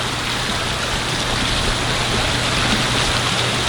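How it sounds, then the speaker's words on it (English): A hotel waterfall in Costa Rica pours in a dense, steady rush of falling water, loud and close, with no voices over it. "You can see the waterfall."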